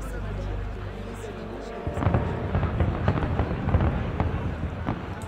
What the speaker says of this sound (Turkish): Havaya fişekler patlıyor.